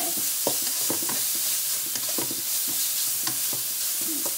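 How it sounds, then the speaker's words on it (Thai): Pork stir-frying in a hot pan, a steady sizzle broken by irregular scraping and clacking of a spatula against the metal, close and continuous with no talk. "ผัดจนหมูสุกนะคะ จนสีแดงๆเนี่ยค่ะ"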